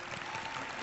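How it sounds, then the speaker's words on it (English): An audience at a pediatric summit claps in a brief, steady burst of applause, moderately faint and heard from within the room. "They're clapping for you."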